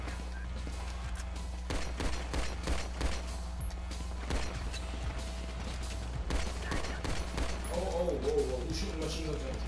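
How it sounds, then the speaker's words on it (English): Rapid bursts of machine gun fire in the Grand Theft Auto V video game, sharp repeated cracks scattered through the stretch over steady background game noise, with a voice talking in places. "machine gun."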